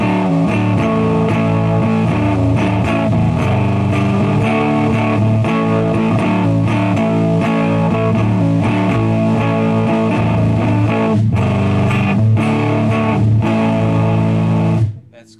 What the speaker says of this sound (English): Phase inverter blocking distortion.